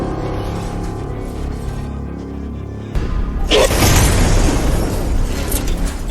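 A low steady hum gives way to a sudden loud bomb blast inside a house, followed by a rumbling, crackling roar that lingers for a few seconds.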